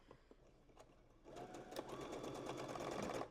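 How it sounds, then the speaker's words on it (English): A sewing machine starts up partway through and runs in a fast, steady mechanical whir with rapid stitching clicks. It sounds strained and loud close by after a quieter opening. "my sewing machine made angry noises"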